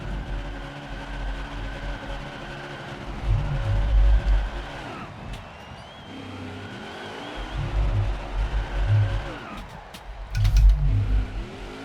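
A racing truck engine in NASCAR Heat 5 revs hard in repeated surges during a burnout, rising and falling in loud bursts with a steady growling drone and tire noise between.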